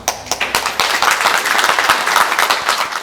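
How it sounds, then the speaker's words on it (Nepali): Loud, dense clapping from an audience at a Nepali charity foundation event, steady and close with no voices over it. "उहाँलाई जोरदार ताली।"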